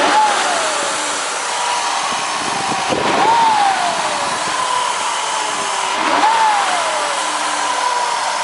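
Car engine under a hood revving as gas is given after intake manifold and fuel injector rail repairs, a loud whining drone that swells in three rising pulses about three seconds apart, with a voice faintly audible.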